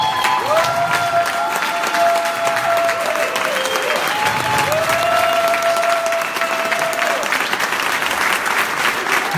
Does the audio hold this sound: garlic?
no